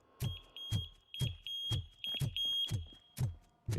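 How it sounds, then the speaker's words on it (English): A robot in the video game Robocop Rogue City gives off a steady series of short electronic beeps, about two per second, each with a low thump, fairly quiet and evenly spaced. "Okay, you keep beeping."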